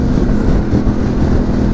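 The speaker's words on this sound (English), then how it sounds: "I hope the mic picks up the exhaust" Harley-Davidson Pan America motorcycle engine and exhaust running steadily, a loud, continuous low rumble with wind buffeting the microphone while riding, no talk.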